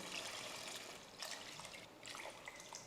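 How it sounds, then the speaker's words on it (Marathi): Water pours into a pot of spiced masala rice, four cups over two cups of rice with sautéed spices, a soft continuous splashing trickle that stays faint and even. "आता यामध्ये घालायचे पाणी"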